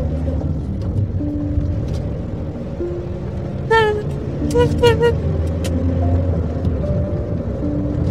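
A car pulls away with a steady low engine rumble that holds throughout, while brief high-pitched tones chirp in the middle.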